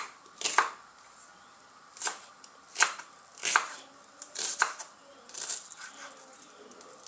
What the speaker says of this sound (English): not yet done with the onions. Let me chop it, all of it, all of it